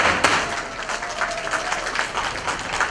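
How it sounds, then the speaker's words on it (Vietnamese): Applause from an audience at a building topping-out ceremony for the Hateco Hoang Mai construction project, a steady dense clapping that holds for about three seconds at fairly constant loudness. "Một lần nữa chúng ta cùng dành một tràng pháo tay thật lớn cho sự kiện đầy ý nghĩa này"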